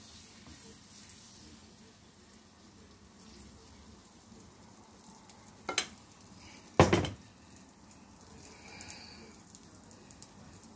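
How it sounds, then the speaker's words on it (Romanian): Vegetable pancake batter frying in a very hot pan over moderate heat, a steady soft sizzle and crackle throughout, interrupted by two sharp clanks of a utensil against the pan. "Lăsăm să se prăjească și pe o parte și pe alta."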